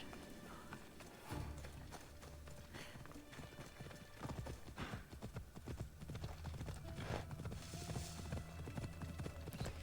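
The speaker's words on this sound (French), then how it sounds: "Je vais prendre mon cheval." Rhythmic clip-clop of horse hooves at a steady gallop, close and continuous, with a brief whinny and game-like background ambience.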